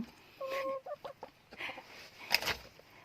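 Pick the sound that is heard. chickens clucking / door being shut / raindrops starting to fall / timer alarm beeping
chickens clucking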